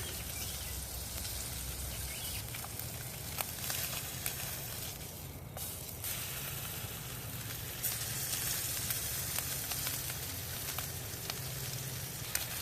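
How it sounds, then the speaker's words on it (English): Bacon-wrapped tenderloin sears on a titanium hexagon wood stove grill fed with pellets outdoors, giving a steady close sizzle and crackle of frying fat that runs unbroken with small pops throughout. "I'm just going to sear it a little bit on each side first"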